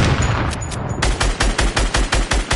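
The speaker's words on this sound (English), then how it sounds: "Heavy sniper." Heavy sniper rifle shots in Fortnite Playground, a rapid series of sharp, loud cracks fired in quick succession, each with a short punchy tail and no talk over them.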